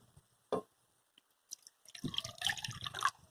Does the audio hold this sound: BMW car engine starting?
no